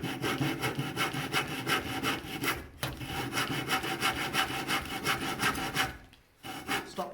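A hand saw cuts into wood for a housing joint, rhythmic rasping back-and-forth strokes close up, pausing briefly twice before resuming.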